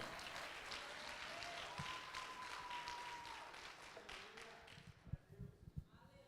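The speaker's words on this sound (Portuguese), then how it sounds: "Aplauda ao Senhor." Church congregation applauding the Lord during a Portuguese sermon, a steady wash of clapping that thins out toward the end, with a few louder thumps and brief voices near the close.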